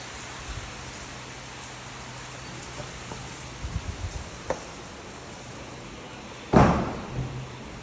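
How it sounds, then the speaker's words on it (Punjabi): Steady rain hissing down outdoors, with a few soft knocks and one louder thud near the end. "ਮੀਂਹ ਵਧੀਆ ਆਈ ਜਾਂਦਾ"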